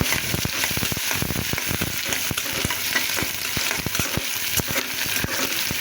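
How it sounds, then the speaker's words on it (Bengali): Onion, chili and garlic fry with dried loitta fish in a pan, a loud continuous sizzle broken by frequent scraping clicks of a spatula stirring throughout. "এখন আমি এখানে পেঁয়াজ, মরিচ আর হচ্ছে রসুন দিয়ে দেবো।"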